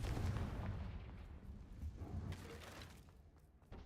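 Fire spell blasts go off in the video game Hogwarts Legacy on a Scottish isle, a loud booming burst up front that rumbles on and fades, with a second smaller blast near the end.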